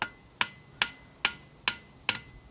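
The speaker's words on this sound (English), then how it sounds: "I'm just going to knock it with a hammer." A hammer knocks on a metal hydro part, six sharp evenly spaced strikes about every half second, close and clear with a brief ringing decay after each.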